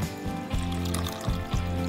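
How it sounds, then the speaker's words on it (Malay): Warm water poured into a glass while making donut dough, a close, steady trickling pour that continues without pause for about two seconds. "Selanjutnya kita tuangkan air ya ke gelas yang tadi"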